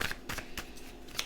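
A deck of cards being shuffled during a tarot-style card reading, giving several quick, soft riffling bursts close by with brief pauses between them.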